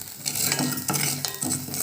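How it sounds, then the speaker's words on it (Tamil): Salt stirred and sautéed in a hot iron pan for idli podi, a scraping, rattling stir with a soft sizzle running continuously, close and fairly loud, with brief pauses between strokes. "அந்த சூடுலேயே உப்பையும் கொஞ்சம் வதக்கிறேன்"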